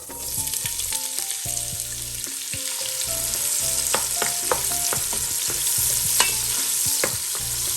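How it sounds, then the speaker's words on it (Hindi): One large onion dropped into 150 grams of hot oil in a deep pot, a loud steady sizzle with stirring scrapes up close, over background music. "अब इसमें ऐड करेंगे 1 अदद बड़ी प्याज।"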